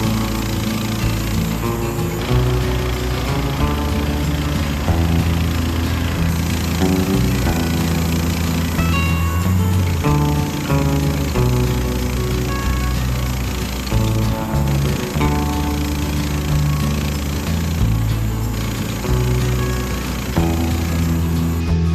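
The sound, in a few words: sawmill blade cutting boards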